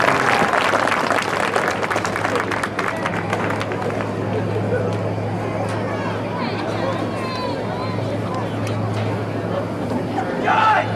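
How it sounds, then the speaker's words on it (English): Crowd applause for senior athletes at a high school football game, Jackson Christian vs Lake County: broad, sustained clapping and cheering from the stands with crowd chatter mixed in, fairly even in loudness throughout. "Let's give them one great big round of applause."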